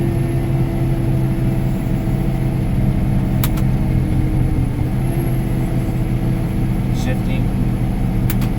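Steady engine drone of a cart climbing a small hill under load, a constant loud rumble with a faint whine, heard close from the seat, with no clear revving changes.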